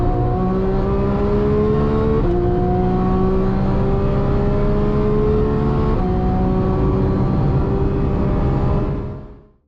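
A 4-litre GT3 engine fitted with a TVS 1900 supercharger revs hard and steadily, its loud droning tone rising in pitch across three upward sweeps before cutting off abruptly at the end.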